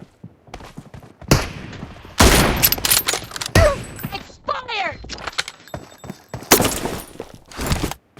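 Bursts of gunfire crack out in a one-on-one sniper team deathmatch video game, with sharp shots and rattling volleys scattered irregularly. Some are loud and close, others quieter, and voices break in between them.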